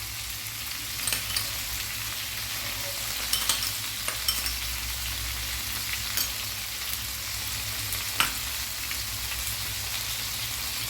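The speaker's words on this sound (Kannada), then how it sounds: "ಒಂದು ಬದಿ ಡ್ರೈ ಆಗಿ ಕಾಯ್ತಾ ಬಂತು." Tandoori-style chicken kalmi kabab pan-frying in a continuous close sizzle with scattered crackles and a few soft stirring knocks, steady throughout and with no voices.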